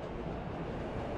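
A train rumbles past in the Warriors video game, a continuous broadband roar with a low rolling rattle that stays steady and fairly loud throughout the brief moment.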